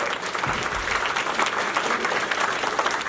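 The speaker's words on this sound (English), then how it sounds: "Big claps for Elector Fencer, people" A convention crowd at a furry weekend opening ceremony claps loudly and steadily, dense applause filling the room close by for the whole stretch.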